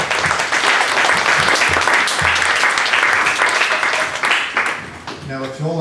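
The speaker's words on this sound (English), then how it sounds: "Round of applause." Audience applause after a data visualization presentation, a loud dense burst of clapping from a room of people that fades near the end as a voice begins speaking.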